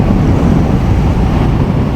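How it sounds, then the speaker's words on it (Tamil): Heavy wind roars across the microphone while a motorbike is ridden, a steady, loud, low rumble with no breaks and no other clear sounds. "விண்ட் அதிகமாக இருக்குது"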